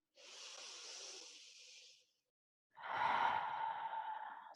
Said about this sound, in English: One more deep breath in and out.